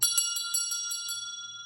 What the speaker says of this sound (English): Next, we found this brass school bell.